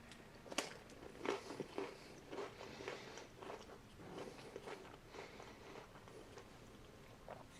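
MRE crackers topped with pork sausage in cream gravy being eaten, with soft crunchy bites and chewing close to the mic, irregular and fairly quiet, no talking.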